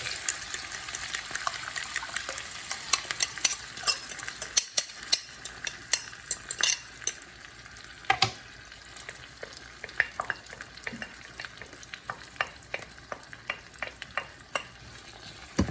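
Egg and frozen bitter gourd frying in a pan over lowered heat, with a steady close sizzle and the repeated scrape and clatter of a utensil stirring, no talking.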